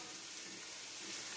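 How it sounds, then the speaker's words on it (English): Chicken sautéing in a pan for chicken cacciatore, a soft, steady hiss and sizzle holding evenly throughout, faint and with no talking. "I want to saute this"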